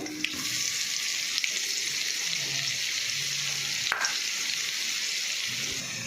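Onion frying in hot oil with panch phoron and dried chili gives a steady, close sizzle that holds evenly throughout, with a faint clink or two of a utensil stirring in the pan.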